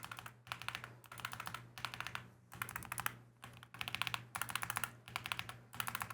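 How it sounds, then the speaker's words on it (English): Close, steady typing on a Keychron Q6 Max mechanical keyboard with taped stabilizers comes in rhythmic bursts of crisp key clacks separated by brief pauses, with no talk over it. "the right-hand side on this stabilizer, the stabilizer itself makes a pingy sound"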